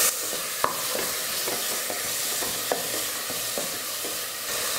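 Onion, garlic, green chilli and tomato sautéing lightly in a little oil, with a steady close sizzle and intermittent spatula stirs and scrapes against the pan.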